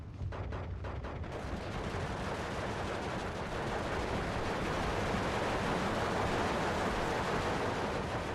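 Sniper squad gunfire in the Steel Division 2 video game, a dense, continuous roar of distant battlefield shooting that blends into a steady wash of noise, loud and unbroken, with a few distinct cracks at the start.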